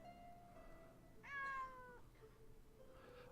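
A cartoon kitten in the cozy hidden-objects game Itty Bitty Little Kitties gives a single clear, high meow over a quiet background tone.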